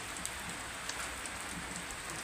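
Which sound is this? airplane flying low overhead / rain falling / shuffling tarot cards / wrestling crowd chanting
rain falling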